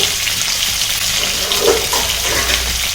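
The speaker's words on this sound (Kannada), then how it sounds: "ಇದೆಲ್ಲ ಸಾಫ್ಟ್ ಆಗಿ ಬೇಯೋ ತನಕ ಫ್ರೈ ಮಾಡ್ಕೋಬೇಕು" Onion, tomato and cashews frying over medium flame in a pan, a loud, dense hiss of sizzling oil with faint stirring scrapes, steady and close throughout.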